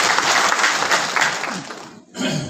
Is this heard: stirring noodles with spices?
no